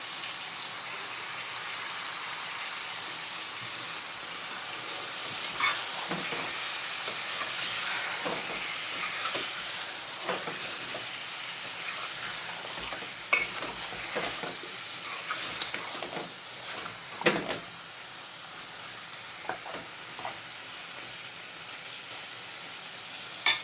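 Masala with coriander stirred and frying in a pan for a Gujarati recipe gives a steady close sizzle and hiss, broken by scraping stirs and a few sharper clinks of the spoon against the pan.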